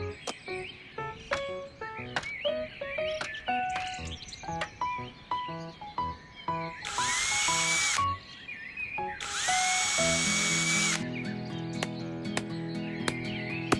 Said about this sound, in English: Hand me the drill, please.